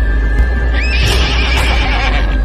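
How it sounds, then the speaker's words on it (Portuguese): A black horse gives a loud, close neigh, a rising whinny that peaks and trails off over about two seconds against a low rumbling background, with a faint clip-clop of hooves. "um cavalo preto que relinchava sinistramente sobre duas patas"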